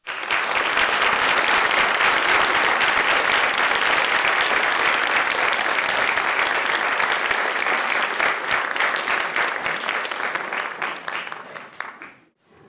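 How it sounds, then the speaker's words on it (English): Sustained, loud audience applause filling a lecture hall after the Kreisel Lecture readings, steady throughout before cutting off abruptly near the end. "a round of applause for all three of our remarkable"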